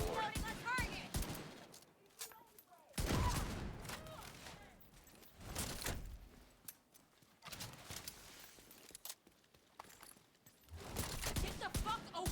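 Pistol fire from a Regulus in The Division 2 during a global event, sharp shots cracking in bursts among in-game radio chatter and hostile combat noise, loud and close.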